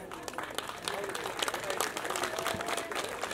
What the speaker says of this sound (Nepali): सम्पूर्णले जोरदार ताली बजाएर सम्मान गरिदिनु होला